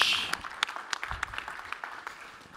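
Audience applause welcoming a presenter onto the stage at a startup pitch competition, a short burst of dense clapping that starts loud and tapers slightly over a couple of seconds.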